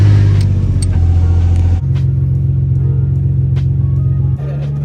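A Nissan 350Z engine on a naturally aspirated pull holds a loud, close droning rev, its tone stepping up in pitch around two seconds in and shifting again near the end, with no talk over it.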